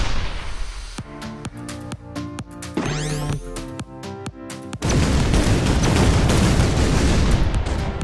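Cartoonish artillery blasts from the ShellShock Live tank game ring out in rapid, evenly spaced bursts, then a rising whistle, followed by a loud, sustained explosive roar filling the last few seconds.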